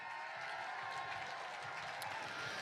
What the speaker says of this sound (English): Why don't we clap for them?